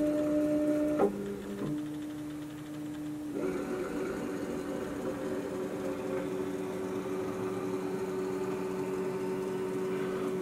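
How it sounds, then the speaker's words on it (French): A CraftBot Flow IDEX 3D printer homes its Z axis with a faint, steady motor whine that shifts pitch a few times early on, then settles into a sustained tone. "la machine recherche sa position sur Z maximum"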